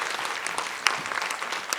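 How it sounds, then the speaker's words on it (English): Applause from a media conference audience rolls on steadily for a couple of seconds, a moderate wash of many hands clapping with a few sharper individual claps standing out. "please give a nice round of applause to Caitlyn Chen from Tencent"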